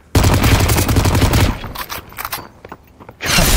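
Rapid bursts of gunfire from the shooter game Population: One, a loud close volley followed by scattered shots, footstep thumps and another burst at the end.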